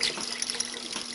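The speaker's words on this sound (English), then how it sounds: "I'm going to add some water in there." Water pouring steadily into a pressure cooker for chicken noodle soup, a close, continuous splashing stream with no talk.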